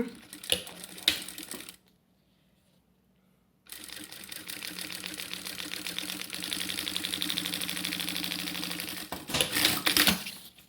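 A sewing machine runs in fast rattling bursts while stitching a seam of about one centimetre on a fabric charger and earphone pouch, with a brief pause before a longer steady run and a louder finish.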